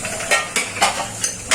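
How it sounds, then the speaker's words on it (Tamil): Country chicken curry comes to a boil in a pressure cooker pot, giving off sharp sizzling, bubbling bursts about every quarter second over a low simmering hiss, close and fairly loud, with no talking. "பாருங்க, கொதிக்குது."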